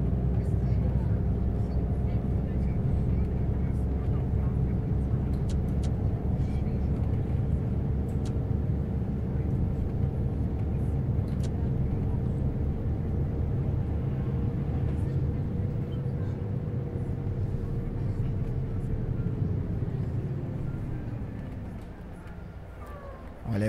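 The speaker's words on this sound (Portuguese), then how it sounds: "Tem muito carro aqui na Fernão Dias" Heavy highway traffic on the Fernão Dias in Euro Truck Simulator 2, heard from a bus: a steady loud engine drone and road rumble holding for over twenty seconds, then easing off near the end.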